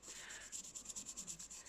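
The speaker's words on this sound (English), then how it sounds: "you need to keep sanding just to smooth it off." Milliput putty is sanded smooth by hand in quick, rhythmic back-and-forth strokes, each pass producing a close, scratchy rasp, heard alone without talk.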